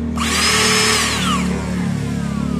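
A homemade iron-cutting grinder built from scrap parts and powered by a 21 V battery runs close up with a loud, steady high-pitched whine, its tone drifting slightly, no voices.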